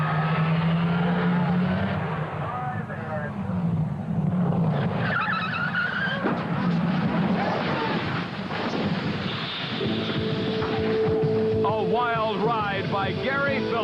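A funny car drag racer roars through a qualifying attempt, its engine loud and sustained, with a commentator talking over the racing noise throughout.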